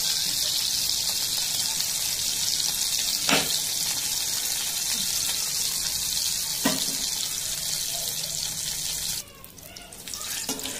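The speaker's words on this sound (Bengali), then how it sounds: "এইদিকে আমি পটলটা একটু পাল্টিয়ে দিচ্ছি ভালো করে হওয়ার জন্য।" Pieces of pointed gourd (potol) fry in hot oil in a pan, a steady close hiss and crackle throughout, with a couple of brief scraping clinks as pieces are turned and a sharp change near the end.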